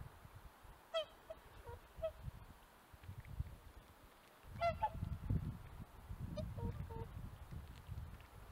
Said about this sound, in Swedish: Sångsvanen är mäktiga fåglar.